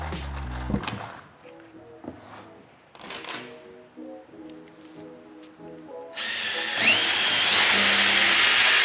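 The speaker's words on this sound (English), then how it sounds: "now Orett I go pre-drill it and ensure say everything's secure" A power drill with a spade bit whines up at close range and runs steadily and loudly near the end, pre-drilling wood, after quieter clattering and knocking at the start.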